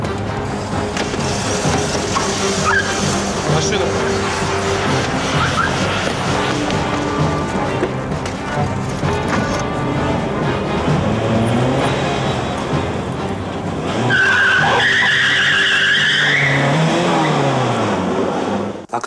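A car pulls away with engine revving under a dense, noisy scene, and a sharp, rising tire screech cuts in near the end.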